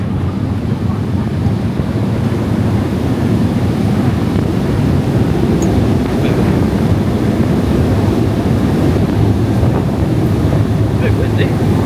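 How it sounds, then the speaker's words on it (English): Strong wind buffets the microphone on a ferry's open outdoor deck sailing between Tenerife and La Gomera, with the steady roar of waves and sea spray underneath, loud and continuous throughout. "A bit windy."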